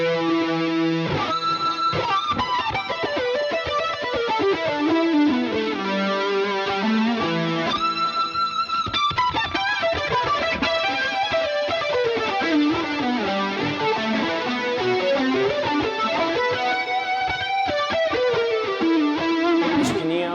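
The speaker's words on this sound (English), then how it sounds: "And now let's engage the fuzz. I'm using a simulation of Big Muff" Thick, saturated fuzz electric guitar through a simulated Electro-Harmonix Big Muff, playing sustained chords and notes, heavily distorted and dense, continuous and loud throughout.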